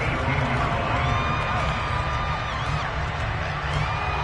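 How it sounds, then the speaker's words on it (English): Big football stadium crowd at a Bengals vs Steelers game, a steady dense roar of cheering and shouting that holds evenly loud throughout, with some voices and whoops standing out from the mass. "this crowd has certainly liked what they've seen"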